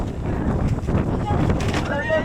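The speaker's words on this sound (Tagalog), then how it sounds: "Ang lakas ng hangin." Strong wind buffets the microphone in a steady low roar, with voices faintly underneath and a brief whistling tone near the end.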